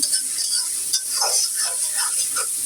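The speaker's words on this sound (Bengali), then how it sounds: "এই মাছ ভাজা তেলের মধ্যে দিয়ে দিব পেঁয়াজ কুচি, পেঁয়াজ কুচি, রসুন কুচি আর কেটে রাখা মরিচগুলো দিয়ে দিচ্ছি" Chopped onion, garlic and green chilies go into hot oil left from frying hilsa fish, giving a steady close sizzling hiss throughout, with a few soft stirring and scraping sounds from a spoon against the pan and no talking.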